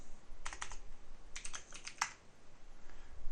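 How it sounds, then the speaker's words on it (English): Keys on a computer keyboard are tapped close by, a quick pair of clicks followed by a faster cluster of four or five presses, then quiet. "press Ctrl X."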